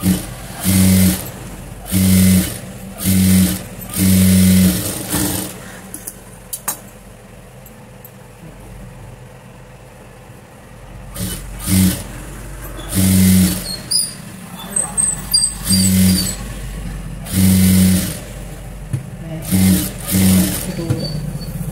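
Sewing machine stitching a puff sleeve blouse, running in short bursts with pauses and a steady motor hum, close and loud, with stretches of speech in between.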